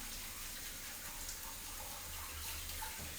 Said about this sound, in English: I'm noticing that the water is still fairly cloudy. So I'm going to keep going with that rinsing.